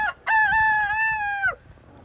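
A single loud, close rooster crow rings out among chickens on pasture, one rising then held call that breaks off cleanly into quiet.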